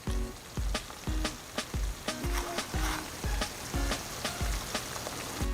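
Masala for mushroom kurma sizzles in a pan, with regular stirring scrapes and clinks at a steady rhythm, close and clear with no talking.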